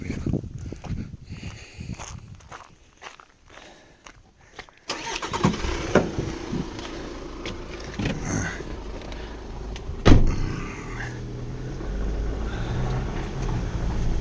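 A car's engine cranks and catches partway through, then settles into a steady close idle with a sharp knock or thump later on, in a rural farm setting.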